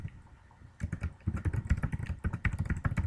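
Quick, clattering keystrokes on a computer keyboard while code is typed, starting after a brief quiet moment and continuing in a fast, uneven run of close, crisp taps.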